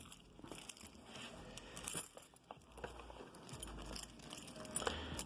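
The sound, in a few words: keys jangling while being grabbed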